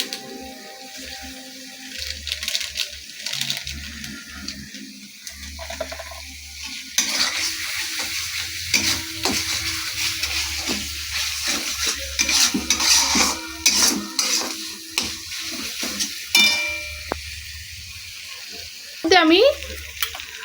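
Spice masala with Kashmiri chilli powder and mango pickle being sautéed in a pan, frying and sizzling steadily while a spoon stirs and scrapes, with occasional clinks of utensils and brief voices.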